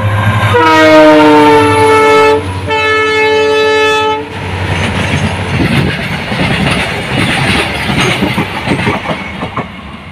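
A train horn blares loudly in two long tones near a rail line during a rainy morning walk, then the train rumbles past with rhythmic clickety-clack of wheels over the tracks.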